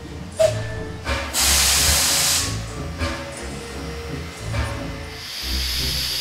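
A steam engine pulls into a tunnel on a railway line, with a loud burst of hissing steam that rises sharply, then a steady rumbling roar and the clank of rolling wagons echoing close by.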